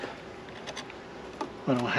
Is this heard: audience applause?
no